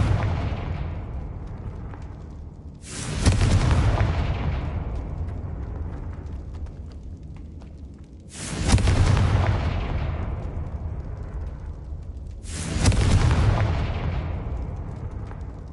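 Three big Confringo spell explosions in Hogwarts Legacy, each a sudden loud booming burst that rolls off into a long fading rumble, spaced several seconds apart with no talking.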